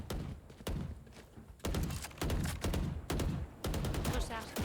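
Rifle full-spray gunfire in Valorant: bursts of rapid, loud shots filling most of the clip, broken by short pauses, with a voice speaking faintly in between.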